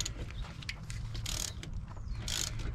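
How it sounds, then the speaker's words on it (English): A ratchet with a 13mm socket works loose the rear brake bolts on a 2007-2014 Chevy Suburban, Tahoe or Yukon, giving short bursts of close, dry metallic clicking over a quiet garage background. "I have a 13mm socket and ratchet. I'm gonna use that and try to break these free."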